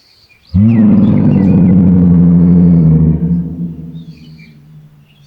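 A wild lion gives one long, loud, rumbling roar that starts abruptly, holds steady, then tapers off gradually into a fading growl.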